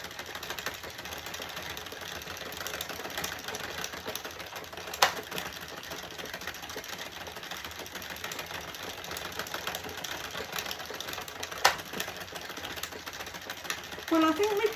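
A knitting machine runs through Woolcraft New Fashion DK yarn with a steady, busy mechanical clatter and whirr, holding an even level throughout, with a couple of sharper clacks along the way.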